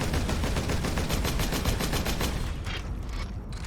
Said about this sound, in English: some weapons actually sound different when they're low on ammo to tell you that you need to reload soon